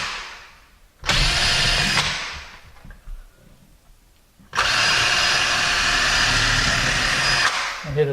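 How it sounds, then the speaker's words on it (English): Two bursts of a power drill boring into a wall, a short one and then a longer one, close and loud, with quiet between them. "Then you can just go ahead and drill all your holes."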